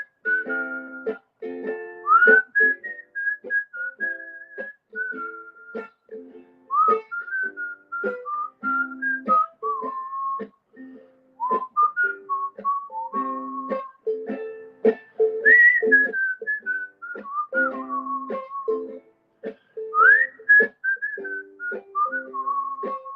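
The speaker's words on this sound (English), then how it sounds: "And then what? And then we whistle." A person whistles a slow melodic tune up close, each note clear and sliding between pitches, phrases separated by short breath pauses and running continuously for over twenty seconds with no other sounds.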